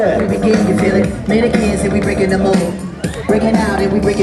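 A crowd at an MTB stunt Grand Prix in Wodzisław Śląski cheers and shouts during a rider's run, continuous hubbub under an excited announcer's voice.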